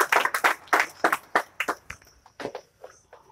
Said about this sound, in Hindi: तालियां बजाए थोड़ा से।